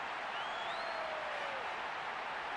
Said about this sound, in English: The crowd wait to offer them a red-hot welcome.